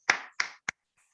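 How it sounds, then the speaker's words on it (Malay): Three sharp, separate hand claps sound close by in a quiet room, the last one shortest, then silence. "tepukan, clap."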